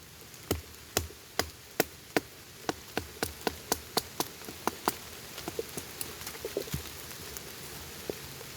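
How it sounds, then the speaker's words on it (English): A knife is batoned with a wooden war club to split wet firewood outdoors in the rain, giving a steady run of sharp, evenly spaced knocks that soften and quicken before fading into light rain and insect noise. "set your knife, get away from your hands, get you a nice war club, and give it a few good solid whacks"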